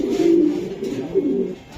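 Racing pigeon cooing during a courtship display toward a hen, a close, low, throaty run of coos with a short pause partway through.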